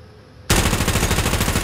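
Shotgun fire in a video game bursts in loud and close after a quiet moment, then continues as a rapid, steady stream of shots with no talking.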